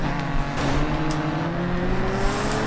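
A car in the Grid 2 racing game leaves the track, its engine droning loud and steady with a slowly rising pitch and faint tire noise, with no talk over it.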